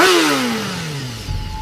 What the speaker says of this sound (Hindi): अंधेरे में बाइक इंजन की आवाज सुनाई दी।